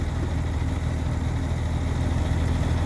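A 2005 Porsche 911 Turbo S Cabriolet's 3.6-litre, 450 hp water-cooled engine idles steadily, a deep continuous rumble that holds an even level throughout with no voices.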